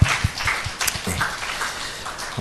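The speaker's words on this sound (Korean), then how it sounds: "우리 하나님께 영광의 박수 올려드리겠습니다" A church congregation at a Saturday revival gathering applauds in a dense, continuous patter of many hands, loud and close, with a few sharper claps standing out.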